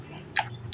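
Someone biting into watermelon: two short, wet crunching bites close to the mic over a quiet background.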